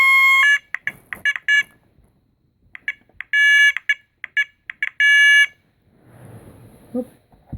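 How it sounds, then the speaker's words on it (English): A 24/12-volt fire alarm siren sounds loud, harsh, electronic tone bursts in stuttering patterns, with short beeps and longer blasts separated by brief gaps, then stops and leaves a soft handling rustle near the end. "Fire alarm siren."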